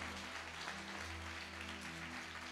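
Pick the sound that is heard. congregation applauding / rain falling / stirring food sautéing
congregation applauding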